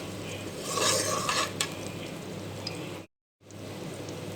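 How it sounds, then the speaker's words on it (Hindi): Spoon scraping and sizzling as onion is stirred with fennel seeds, cumin and black peppercorns in a pan, a busy close rasping clatter that eases off, then cuts to silence briefly before the sizzle resumes. "अब इस स्टेज पे हमने इसके अंदर सौंफ, ज़ीरा और अपनी गोल मिर्चें डाल देनी है और इसको थोड़ा सा जो है वो मिक्स करना है"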